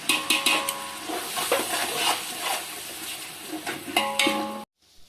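Spoon scraping and clinking in a pot as curd is mixed into chicken biryani masala, a busy run of wet stirring and metallic taps that ends abruptly in near silence.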